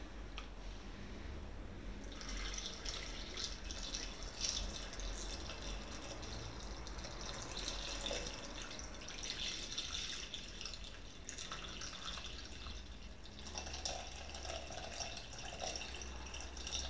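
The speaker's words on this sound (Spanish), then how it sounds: "Vamos a echar el agua" Water pours into a Thermomix bowl over broken potatoes for porrusalda, a steady close splashing and dripping stream that runs alone for the whole stretch.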